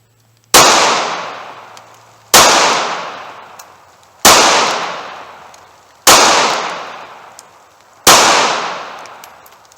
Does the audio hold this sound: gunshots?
yes